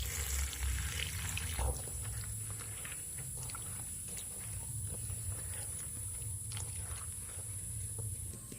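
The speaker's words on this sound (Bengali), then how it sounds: "এখন তরইটাকে আমি ভালো করে জল দিয়ে ধুয়ে নিচ্ছি।" Chopped taroi (ridge gourd) rinsed with water in a kitchen, a steady close wash of running water and splashing that continues throughout, with occasional clinks and handling noises and no talk.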